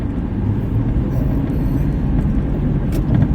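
Car driving along the 275 highway, a steady loud low road rumble and engine drone filling the whole stretch with no talk.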